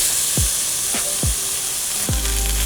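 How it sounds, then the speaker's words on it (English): Onions frying in a hot pan, a steady bright sizzle under a few soft scraping or stirring knocks from utensils, close and continuous with no talk. "So into this pan, I'm gonna add my onions."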